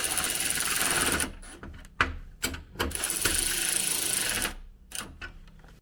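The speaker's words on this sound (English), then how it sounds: "then I'm going to torque these down to the 15 foot-pounds" Ratcheting clicks in several quick bursts from torquing the bracket bolts of a side step on a 2019+ Ram 1500 pickup, close and fairly loud with short pauses between runs.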